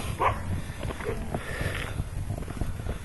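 Two dogs bark outdoors a short way off during a nature walk. A few scattered barks and yelps rise over a rough, windy background.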